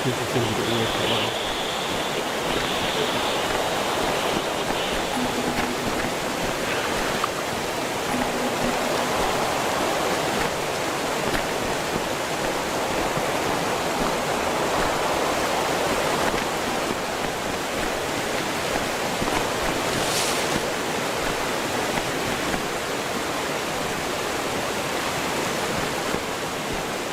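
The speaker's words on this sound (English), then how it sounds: "Loads of water." Steady broadband rush of water in the video game Valley, a continuous waterfall-like roar that stays loud and even throughout, with a faint brief high hiss near the end.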